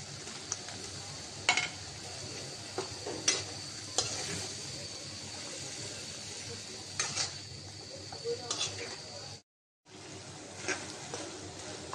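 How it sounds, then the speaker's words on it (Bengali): Potatoes stir-fried with spices in a pan give a continuous soft sizzle, with occasional clinks and scrapes of a spoon, broken by a brief silent gap near the end. "মশলার সাথে একবারে আলুটাও কষাই নিব।"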